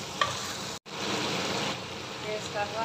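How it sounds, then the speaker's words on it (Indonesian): Sambal chili paste frying for tom yam, a loud close sizzle and crackle that runs steadily with a brief gap, with faint stirring and voices underneath. "Goreng sampai ambal itu masak lah ya."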